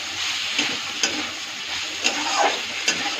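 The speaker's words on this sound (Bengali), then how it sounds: "লেবুর রসটা দিয়ে আর একটু ভাজা ভাজা করব।" Potato and egg bhaji fries in a pan after lemon juice is added, giving a steady close sizzle broken by light stirring clicks and scrapes. No one speaks.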